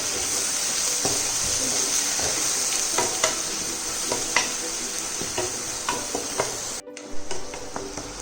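Homemade peri peri sauce with a tablespoon of sugar and vinegar is mixed in a pan, giving a bright sizzle with repeated scraping stir strokes, then a brief clatter near the end.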